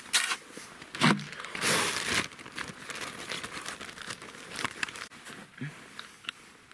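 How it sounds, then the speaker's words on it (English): A paper towel wetted with rubbing alcohol is crumpled and rubbed at close range outdoors beside a birch tree, giving bursts of crinkling and scrunching with brief pauses between them. "So we put rubbing alcohol on this paper towel to sanitize the bit and the wood on the tree"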